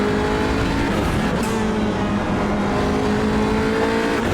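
An Audi RS3 TCR race car in iRacing drones steadily at high revs around the Indianapolis road course, loud and continuous with a brief shift dip and a faint tire squeal, and no talk.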